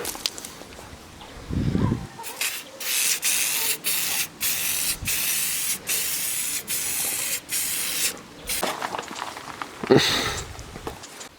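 Sealant sprays onto both sides of a head gasket for a forged SR20DET engine rebuild, a run of close, hissing bursts broken by short pauses, with a few handling knocks at the start and near the end.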